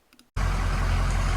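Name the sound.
truck engine running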